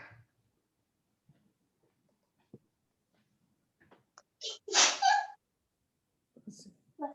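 A single sharp sneeze bursts out loudly in a quiet lecture room between soft rustles and faint movement noises, followed shortly by a brief spoken reply.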